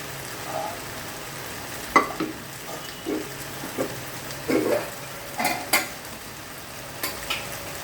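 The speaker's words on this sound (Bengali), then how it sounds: "তেলটা ছেড়ে আসা পর্যন্ত একটু কষিয়ে নিই।" Mutton curry sautés in hot oil in a pan, with a soft steady sizzle broken by about a dozen scraping stirs of a spoon against the pan, close and moderately quiet, with no talking.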